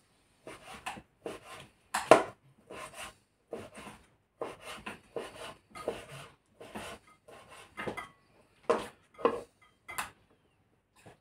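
Knife slicing ham into thin strips for homemade pizza toppings, producing a steady series of short, quiet cutting taps and scrapes on a board, about one every half second.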